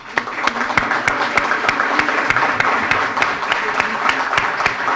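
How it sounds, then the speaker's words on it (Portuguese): A crowd claps steadily throughout, sharp overlapping hand claps forming continuous applause at moderate volume. "Uma salva de palmas."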